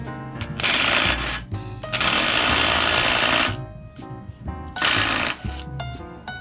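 A power tool on a Honda Civic engine rattles a 14 mm bolt loose in loud, harsh bursts, two long runs broken by short pauses and brief stuttering pulses.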